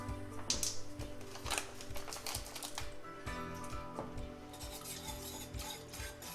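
Keto turkey gravy thickened with xanthan gum is whisked steadily in a pan, a busy run of quick scraping and tapping strokes with a faint sizzle, close and continuous throughout.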